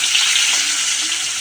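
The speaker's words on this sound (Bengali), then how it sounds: "তেলটা গরম হয়ে গেছে, এবার মাছগুলো এক থেকে দিয়ে দিব।" Kalbaush fish, a fresh river fish from the Gorai River, frying in hot oil, giving a steady, dense, close-up sizzle that holds constant throughout with no talking.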